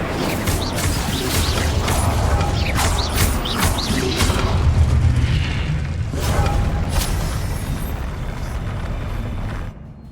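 The Confringo and Incendio spells go off in the video game Hogwarts Legacy as loud, roaring blasts and fiery whooshes, ending with a brief drop to quiet.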